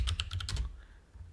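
Someone types a command on a computer keyboard, giving a quick run of about six close, crisp key clicks that then stop, leaving quiet room tone.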